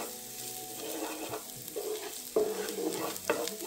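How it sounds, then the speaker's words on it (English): Onion, garlic and spring onion sizzle softly in a hot pan for a vegetarian mee hoon goreng, with close stirring scrapes and small clinks over the steady frying hiss. "We're gonna fry onion, garlic, and spring onion to get a little bit soft."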